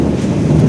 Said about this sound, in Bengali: আর পাচ্ছি না, মেঘ ডাকছে।